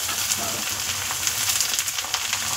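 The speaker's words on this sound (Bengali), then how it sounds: "চলুন মাংসটা ভালো করে ভেজে নিই" Kalbat chicken pieces frying in a pan with deep-browned onions, a loud close sizzle with crackling pops and a few stirring scrapes over a steady bubbling bed.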